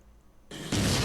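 A film explosion in a toy store bursts in with a sharp rising blast that jumps to a loud, sustained roar within a second.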